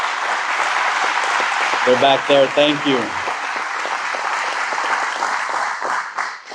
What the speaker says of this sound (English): So if you could get up and so we could give you a round of applause of a thank you.